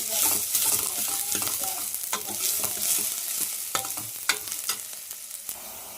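Fenugreek seeds are stirred into a sizzling tempering in a pan, with close, busy scraping and spoon clinks over a steady frying hiss.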